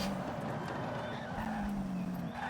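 A car engine in Forza Horizon 5 drones and revs steadily, with tires squealing and skidding over the sustained motor tone, loud and close with no talk.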